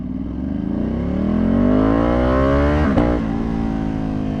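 A tuned Ducati Panigale V2 motorcycle engine revs hard and close, its deep, bassy tone climbing smoothly in pitch before a sharp blip and settling into a steady high growl.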